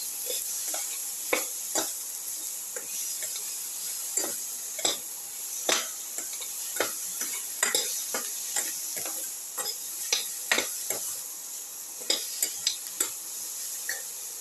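Tomato pieces are stirred in a sizzling pan: a steady frying hiss runs throughout while a spoon scrapes and taps against the pan in irregular, fairly quick strokes, with no voices.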